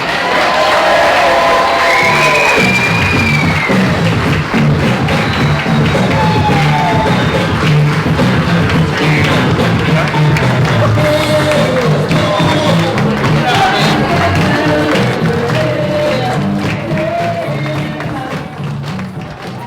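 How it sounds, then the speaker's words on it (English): Wedding guests cheer and applaud the newlyweds at a Sandy Cove reception, loud and close, with whoops, shouts and clapping mixed into a lively crowd roar that tapers toward the end. "applause for the new Mr. and Mrs. Bevins"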